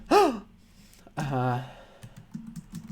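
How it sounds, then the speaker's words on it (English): A person performs a gasp as a sharp vocal intake of breath while reading a children's story aloud, followed by a second, longer drawn breath, with faint keyboard tapping underneath. "that's a gasp"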